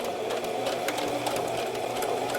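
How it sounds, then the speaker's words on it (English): A sewing machine stitches steadily through several fabric layers of a face mask, tacking back and forth with a continuous, close, fairly loud mechanical whir. "because you are sewing over your needle. Go about 3 or 4 times."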